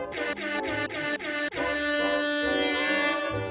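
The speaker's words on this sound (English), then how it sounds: "You can trigger the foghorn by pushing the X key on your keyboard on a Mac" A foghorn sound effect fired from DJ software blasts in several short rhythmic honks, then one long sustained loud blare, played in a dance ballroom setting.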